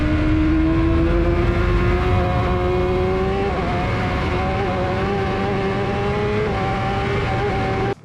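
Racing motorcycles on the Isle of Man TT course at Douglas Road Corner, a residential stretch near 160–170 mph: a loud, sustained engine whine rising steadily in pitch, with gear-shift steps along the way, then cut off abruptly.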